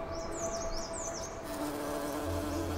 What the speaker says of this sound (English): a plant with fur that's visited by hairy mountain bees